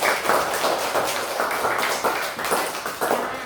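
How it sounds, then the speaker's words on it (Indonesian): Schoolchildren in a classroom clap together in a lively, steady patter of many hands, loud and close, swelling in rhythmic waves with no talking over it. "Kita tepuk tangan untuk kita semua"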